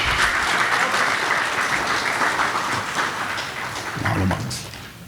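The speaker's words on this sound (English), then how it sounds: "Please another big round of applause for our panelists joining us on stage" A seated audience at a Hawaiian-language panel event gives sustained applause, a dense steady wash of clapping that holds loud for several seconds before gradually thinning out, with no talking over it.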